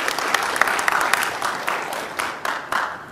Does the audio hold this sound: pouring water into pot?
no